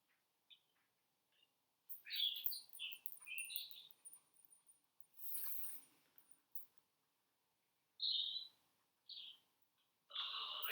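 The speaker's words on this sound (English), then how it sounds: "Yep, the songbirds are right here. Listen." Songbirds, including a song thrush, sing outdoors in short, bright, scattered phrases separated by quiet gaps. The calls are fairly faint, with no talking.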